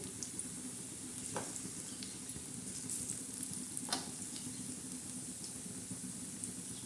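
Spinach bhaje fritters deep-frying in hot oil, a steady close crackle and sizzle with a few sharper pops and bubbling bursts throughout.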